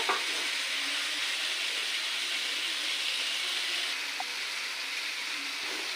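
Ridge gourd curry sautéing in a pan while it is stirred, a constant broad hiss of frying that stays even and close throughout, with only faint scrapes and no voices.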